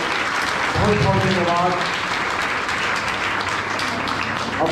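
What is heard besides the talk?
audience applause for drama performers at a temple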